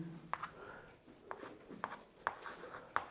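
Pen writing a definition during a chemistry lesson, a series of faint scratchy strokes with short sharp taps between them, quiet and close with no talking.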